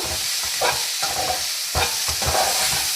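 Spices being stirred into a leafy vegetable curry in a pan: a steady scraping stir with a soft sizzle throughout, close and alone without voices.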